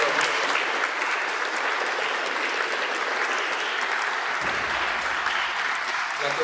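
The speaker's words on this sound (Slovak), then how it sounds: "Môžeme ešte privítať potleskom." An audience at a talk on the Holocaust in Slovakia welcomes a speaker with loud, sustained applause, dense clapping that carries on steadily for several seconds, with some low murmur near the end.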